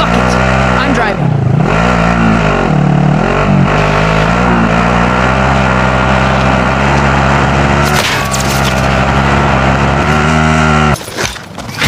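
A car engine revs hard in a Call of Duty battle royale match, loud and close, rising and dipping in pitch as the vehicle accelerates and shifts, then cuts off sharply near the end.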